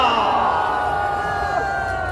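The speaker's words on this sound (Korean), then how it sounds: "이계선 대변인께서 대원 함성을 보내주시기 바랍니다" Rally crowd roars and shouts together in a steady, dense wall of voices, loud and close, with cheers and whoops rising over the din.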